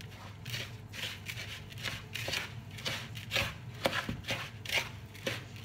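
A stiff, slightly hard chocolate filling for homemade Ferrero Rocher is stirred by hand, giving quiet, close, rhythmic scraping and thudding strokes that repeat roughly every half second.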